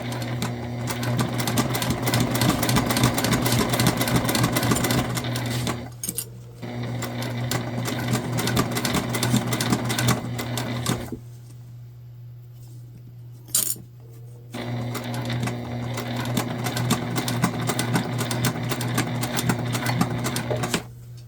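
A sewing machine stitches an Aurora shoulder bag, running in three steady, close bursts of rapid needle chatter with a constant motor hum, separated by brief pauses, including a longer quiet gap midway, with no talking.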